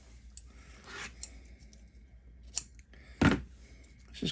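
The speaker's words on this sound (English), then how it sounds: "take a pair of scissors here" Scissors snip a piece of yellow masking tape close up, a few quiet separate cuts and rustles with one sharper snip near the end and no talking.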